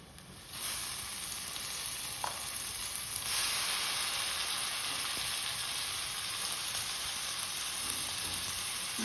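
Fresh cashews sizzling in hot oil with homemade ground masala in a pan for a Konkani-style curry, a steady close frying hiss that holds for several seconds, with a faint clink near the middle and no talk.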